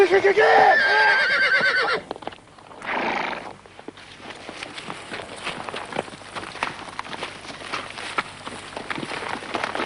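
A horse neighs loudly in a shrill, wavering whinny at the start, followed by a burst of noise and then quieter rustling and hoof movement.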